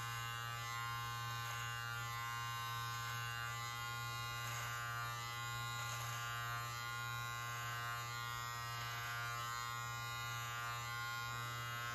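Live Bearded MT-1 electric beard trimmer cutting a medium length beard, a constant close, steady motor buzz with faint shifts in tone as it moves through the hair, no talking.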